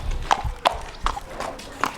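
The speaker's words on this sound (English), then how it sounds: "It's a beautiful horse." A horse's hooves clip-clop at a steady walking pace on hard ground at an equestrian venue, with five distinct close hoof strikes and light background noise.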